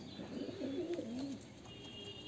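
A domestic pigeon in a Murshidabad loft coos in one long, warbling, throaty phrase up close, then goes quiet with faint background birdsong and hum.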